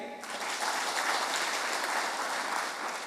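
An audience at a couples day celebration in St Mary's church, Alangad, claps together in a steady, full burst of applause that fills the space, loud and continuous from start to end.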